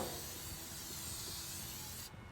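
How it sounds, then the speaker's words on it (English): Continuous spray hiss as the grates of a Char Griller Gravity Fed 980 grill are coated with seasoning spray, faint and even throughout before cutting off abruptly just before the end. "and we'll spray these grates as well."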